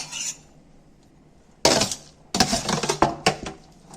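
Spinach mixture for palak paneer tipped from a plate into a mixer jar, giving a few close clattering scrapes and clinks of metal and glass in quick bursts, with no talking.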